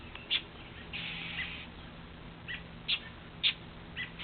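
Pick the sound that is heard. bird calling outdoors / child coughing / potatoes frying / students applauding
bird calling outdoors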